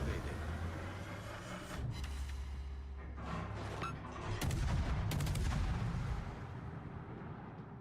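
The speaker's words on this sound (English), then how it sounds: "I think it's time to open up with guns, huh?" Naval guns booming in World of Warships, heavy low blasts with sharp reports in loose clusters over a steady background rumble of the ship and battle.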